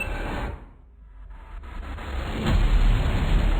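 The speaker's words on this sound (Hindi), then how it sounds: "डर के मारे राजन गाड़ी रोक देता है" A car slows and stops on a highway in a spoken horror story, its engine rumble dipping, then rising and idling in a steady low drone, with no voices.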